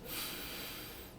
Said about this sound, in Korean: 이런 숨소리를 내면 돼요.